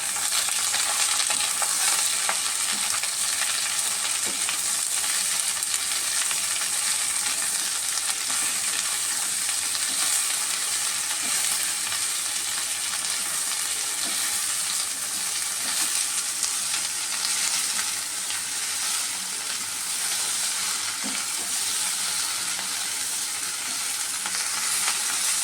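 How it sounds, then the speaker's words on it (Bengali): Okra sizzles and fries with mango kasundi and chopped green chillies in a pan while being stirred, a steady loud hiss with scraping stir strokes running throughout, no voices. "খুব ভালোভাবে আবারও মিশিয়ে দেব।"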